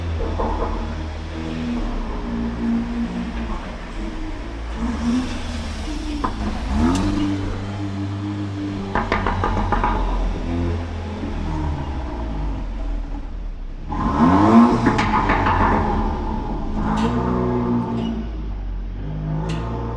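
A tuned Audi S3 Stage 1 with a Milltek exhaust rumbles and revs, its engine note rising and falling through several sweeps before a louder, sharper rev near the end, close and raw.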